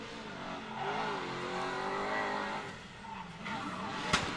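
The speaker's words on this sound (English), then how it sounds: "You just hear him, that new LS7 under the bonnet, 650 horsepower. You can really hear him pedaling it." Drift car with a 650-horsepower LS7 engine at a British Drift Championship qualifier in Teesside, a distant engine wavering up and down in revs with tire roar and skidding, ending with a short sharp crack.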